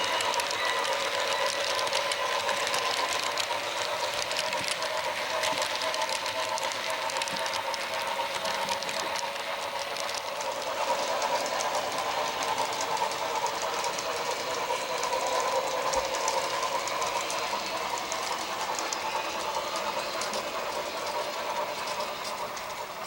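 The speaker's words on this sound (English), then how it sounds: "H10S Class 280 number 8014 leads a local freight out of the yards and up a secondary line" An HO scale model of a Pennsylvania Railroad H10S Class 280 steam locomotive, number 8014, hauls a local freight train, giving a steady, continuous mechanical running whir and rolling clatter that holds evenly throughout.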